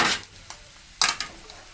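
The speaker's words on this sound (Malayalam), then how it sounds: "എന്നിട്ട് നല്ലപോലെ ഒന്ന് ഇളക്കി കൊടുക്കുക." A spoon stirring dried, pounded beef in a pan with a little oil gives a few sharp clacks and scrapes against the metal, spaced unevenly over a couple of seconds, close and fairly faint.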